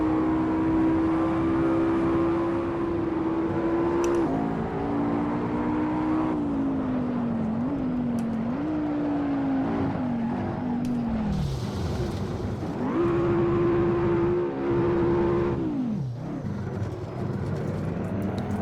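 A McLaren MP4-12C engine drives in the racing game Assetto Corsa on PS4, a loud, continuous drone rising and falling in pitch through gear changes and lifts, with no talking.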